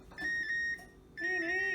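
A food dehydrator gives two sustained electronic beeps, the second longer and brighter, close by in a quiet kitchen.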